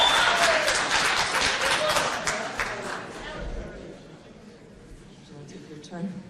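Applause and clapping from an audience at a town meeting, loud at first and then thinning out and fading under murmured crowd chatter.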